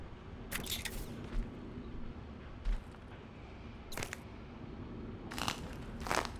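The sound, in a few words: bone crunching sounds in the video game Prey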